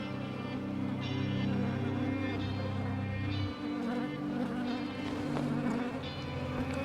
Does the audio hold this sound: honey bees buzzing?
yes